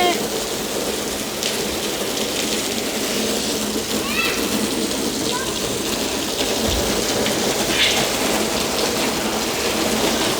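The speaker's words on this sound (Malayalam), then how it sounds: "കാര്യം മഴയുടെ നല്ല സൗണ്ട് ഉണ്ട്" Heavy desert rain pours steadily throughout, a dense hiss of drops drumming on a surface, with a faint brief voice or call in the background.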